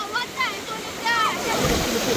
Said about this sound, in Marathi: बघा पाणी कसं मस्त वाहते, एकदम भारी वाहते पाणी.